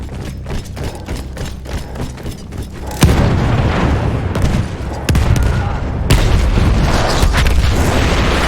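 A gun blows up in the Battlefield 1 war game, with repeated loud booms and a sustained roar of artillery and gunfire, as sharp blasts strike around three, five and six seconds into continuous heavy battle noise.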